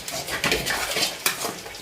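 A spoon scrapes and knocks through cooked rice inside a pressure cooker, a rapid run of close metallic clinks and scraping strokes with no talking.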